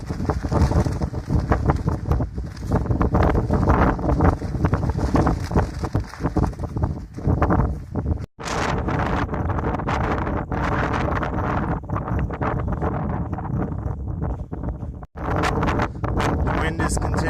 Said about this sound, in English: The wind is continuing today. It's kind of hard to record. The noise will be picked up